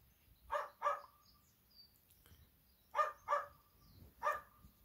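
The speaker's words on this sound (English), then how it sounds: "that bloody dog next door. Does not stop barking." A neighbour's dog barks next door in paired bursts, heard three times at moderate distance with quiet gaps between them.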